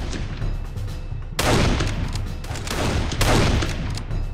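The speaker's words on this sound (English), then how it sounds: "shoot them in the leg or the arm" Gunfire in the war shooter game Darkest of Days: dense, continuous rattling volleys of rifle and machine-gun shots, with two sudden louder bursts swelling over the ongoing fusillade.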